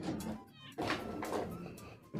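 Cartoonish cat meows from the Tasty Planet Forever video game, a few short calls over game music and background noise.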